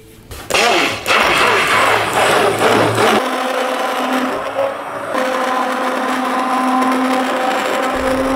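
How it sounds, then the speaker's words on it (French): A whirring motor drone of a hand blender mixing the lye solution into melted oils for handmade soap, loud and steady with a shift in pitch partway through, no talking. "J'incorpore mon mélange alcalin dans mon huile et je vais commencer de mélanger"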